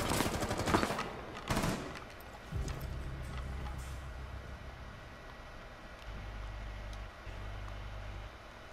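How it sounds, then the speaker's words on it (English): Gunfire in the tactical shooter Rainbow Six Siege: two sharp bursts of shots near the start, then steady low rumbling game noise with no talk. "I'm being shot from this window over here."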